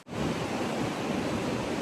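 Sea waves wash in beside a seaside villa, a close, steady hiss of surf with some wind in a brief stretch and no voices.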